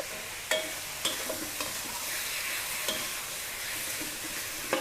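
Squid stir-fried over the highest heat, giving a steady hiss of sizzling with a few sharp scrapes and clacks of the utensil against the pan, close up and without speech.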